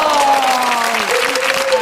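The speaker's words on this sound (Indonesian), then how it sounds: "Tepuk tangan dulu, mau Pak RW, tepuk tangan dulu" A small neighbourhood gathering gives a round of clapping, steady and fairly close, with a sustained tonal voice or instrument line running beneath the hands throughout.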